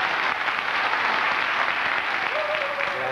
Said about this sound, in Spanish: un aplauso grande de todo el público que está acá